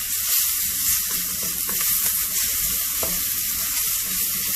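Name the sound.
onions frying in a pan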